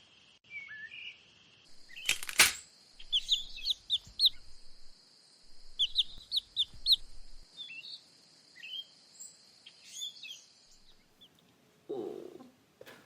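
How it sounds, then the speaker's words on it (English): Small birds in a spring nest give a run of high, thin chirps and cheeps in short clustered bursts, fairly close, with a sharp louder click near the start and a soft low rustle toward the end. "I want to see some sweet baby birds."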